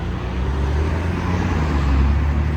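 A Novitec-tuned Lamborghini Urus with a loud custom exhaust approaches under a steady deep engine rumble that swells slightly, heard from outside the car with no talk.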